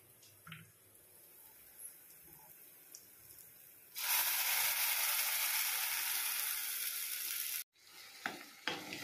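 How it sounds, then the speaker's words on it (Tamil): Ground amaranth-leaf paste poured into hot sizzling tempering, a sudden loud hiss that holds steady for several seconds, then cuts off abruptly, followed by faint clinks, close by. "இப்போ நான் வந்து இந்த அரைச்ச விழுதை வந்து நான் தாளிசத்தில் கொட்டுறேன்."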